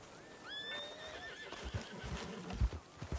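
A horse gives a loud, wavering whinny that rises and trails off, followed by several heavy hoof thuds and shuffling movement nearby.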